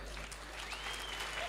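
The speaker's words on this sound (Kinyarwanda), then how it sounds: "amashyi menshi cyane, twakire Scovia" Faint applause from an audience welcoming Scovia Mutesi on the talk show Meet Me Tonight, with a soft wash of clapping, a thin whistle and voices mixed in.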